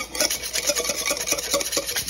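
Dry keto eggnog donut ingredients, including baking powder, are whisked together in a bowl, giving a loud, rapid, rhythmic scraping and rubbing that runs continuously with no voices.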